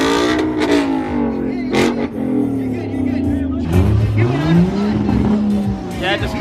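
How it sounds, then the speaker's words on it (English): A Ford Mustang engine revs loudly nearby, its pitch swooping up and down in strong surges, with tire squeal mixed in. "Mustang, let's hear it."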